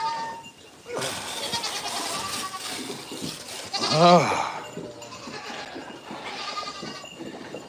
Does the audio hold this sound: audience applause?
no